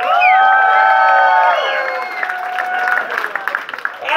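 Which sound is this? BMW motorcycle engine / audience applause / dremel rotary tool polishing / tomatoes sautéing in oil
audience applause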